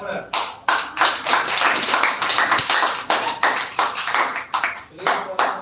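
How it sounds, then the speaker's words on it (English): Classroom audience clapping for a student speaker at a computer education event, a lively burst of many hands in uneven rhythm, close and fairly loud, with some voices mixed in. "Clap for her."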